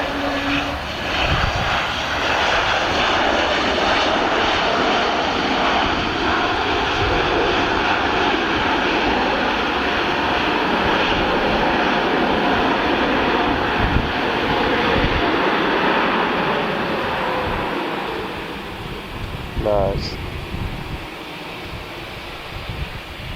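Jet airliner engines roar steadily at Luton Airport just after landing, a loud continuous broadband rumble with wind-like rush that fades slightly near the end.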